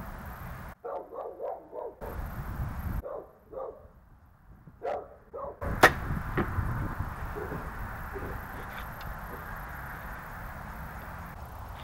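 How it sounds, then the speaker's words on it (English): A dog barks in a backyard near an archery range, several sharp barks and yips at a moderate distance over outdoor ambience, followed by a steady background hiss and a sudden sharp impact. "That dog is annoying."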